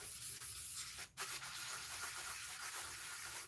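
Hand sanding of a surface before acrylic pouring, a steady close rasping rub in continuous back-and-forth strokes with one brief pause, no voices.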